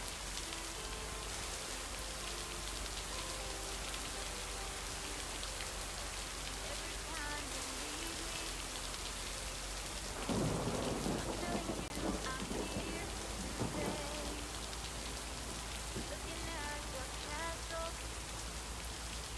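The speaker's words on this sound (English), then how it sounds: "A rainy, stormy send-off." Steady rain pours in the video game Lake, with a dense, even patter throughout and a louder rumble of thunder swelling through the middle before the rain settles back to its constant wash.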